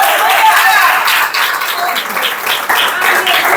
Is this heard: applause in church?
yes